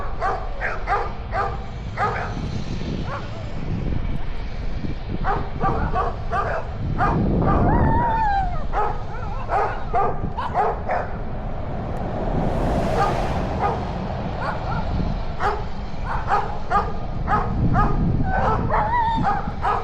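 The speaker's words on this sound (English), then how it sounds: "Wonder what a dog says when he barks?" A dog barks and yips repeatedly in short, close bursts over steady outdoor rumble, with a whimpering note in places; no one talks.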